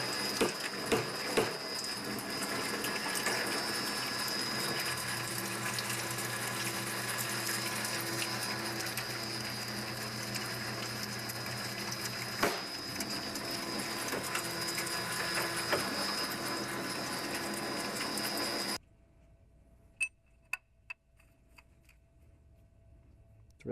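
A pipe threading machine cuts threads on a test piece of pipe, giving a steady, loud mechanical grinding and whirring for about eighteen seconds before it stops abruptly, leaving faint clicks and ticks.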